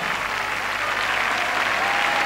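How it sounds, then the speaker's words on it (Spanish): The Quinta Vergara audience at the Viña del Mar festival applauds, a broad, sustained wash of clapping from a huge open-air crowd, loud and continuous with a faint murmur beneath. "El aplauso de la Quinta Vergara."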